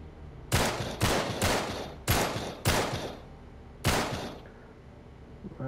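Gunfire in Uncharted 3: six sharp shots with booming low tails, spaced irregularly over a few seconds, loud and close, with no talking.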